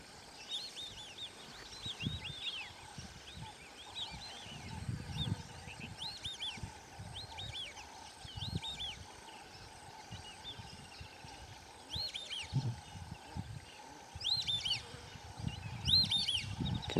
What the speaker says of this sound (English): Can you hear the whistling ducks?